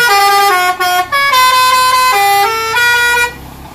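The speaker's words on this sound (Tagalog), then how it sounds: "Pinag-combine yung dalawang busina." Combined China and Jet Inoue horns, about four feet long and mounted on a vehicle, blaring loud and close in a series of multi-tone blasts with brief breaks between them.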